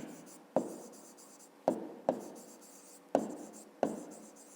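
Pen scratching on paper while working a fifth-grade math exercise, with soft continuous strokes broken by five crisp taps spaced unevenly, close and quiet, no voices.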